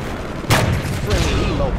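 Gunfire in a first-person shooter game with a sniper in play: one loud, sharp burst cuts through midway and then trails into a steady wash of battle noise, with voices faintly under it.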